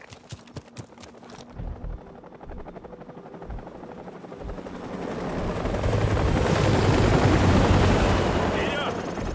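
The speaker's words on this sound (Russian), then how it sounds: "Вражеские вертолеты." Enemy helicopters in Call of Duty: Modern Warfare Remastered build into a loud, dense rotor roar that swells toward the middle and lingers, following sharp bursts of gunfire and impacts at the start.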